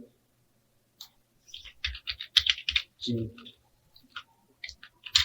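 Bursts of quick keyboard clicks from code being typed on a computer keyboard, close and crisp, with short pauses and a brief murmur of voice between keystroke runs.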